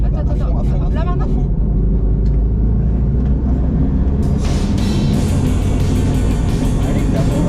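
A Subaru car accelerating at full throttle: a loud, close engine roar with road rumble runs throughout and surges harder midway, with voices talking over it.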